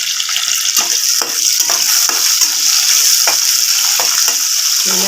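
Onions, curry leaves and ten to fifteen garlic cloves sauté in a hot oiled pan for a Tamil paruppu vadai kuzhambu, giving a steady loud sizzle with brief stirring scrapes throughout.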